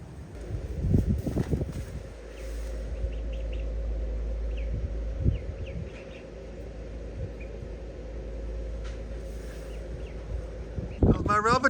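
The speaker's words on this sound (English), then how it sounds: "It's so windy today." Gusty wind buffets the microphone with low rumbling bursts, while faint calls of migrating snow geese come and go in the distance.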